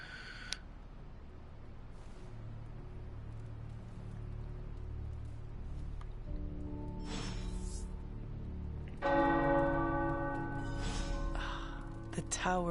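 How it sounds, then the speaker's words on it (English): Tower bells ring in a video game, a cluster of sustained, overlapping tones that swells in near the end over a low background rumble and faint ticking. "The tower bells are ringing."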